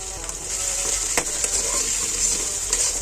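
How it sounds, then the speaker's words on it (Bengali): Eggs and noodles sizzle steadily in a hot pan as they are stirred, with faint scraping and a few soft clicks of the spoon. "ভালো মতো নাড়াচাড়া করে নিতে হবে।"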